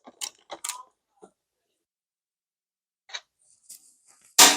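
A few small, close metallic clicks and creaks as a nut is turned off the tail light assembly of a Honda CT70 minibike, separated by quiet gaps, ending in a sudden louder scrape.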